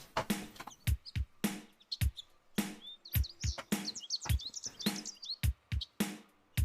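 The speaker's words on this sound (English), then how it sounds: "you should hear the birds" Birds chirping and tweeting in a played track, bright repeated calls threaded between sharp, loud drum hits that mark a steady rhythm, with no talking.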